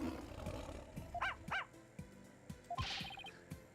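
A dog in the video game Ace Attorney: Spirit of Justice gives a few sharp, separate barks, fairly loud and close, over a low game background with no talk.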